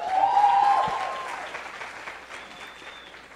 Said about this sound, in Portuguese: uma salva de palmas para vocês mesmos que estão aqui